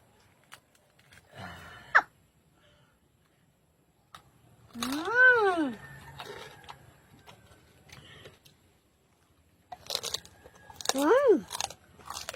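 Crunchy chewing of crispy pig ear during a mukbang, with loud close bites and crackling bursts in short clusters separated by pauses, and a voice talking between them.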